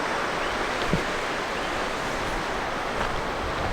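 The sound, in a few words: waves on a beach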